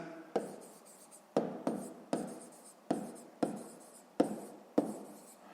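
Pen strokes scratch across paper while working a sixth-grade math exercise, coming in a steady series of short, close, crisp bursts with pauses between them and no talking.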